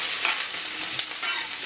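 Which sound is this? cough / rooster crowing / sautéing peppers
sautéing peppers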